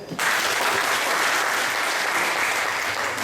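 An audience at a taxi drivers' assembly breaks into sustained, dense applause, loud and close, clapping steadily for about three seconds after a brief moment of quiet.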